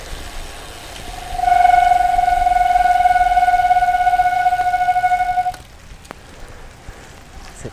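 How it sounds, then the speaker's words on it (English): A loud, sustained high-pitched squeal from bicycle disc brakes in the rain rings steadily for about four seconds over soft rainy road noise, then cuts off abruptly. "It's an interesting sound. My disc brakes make."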